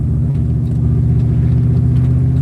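A Plymouth Cuda engine idles close up with a loud, steady, deep rumble and a lumpy, pulsing low-end throb, running alone without talk.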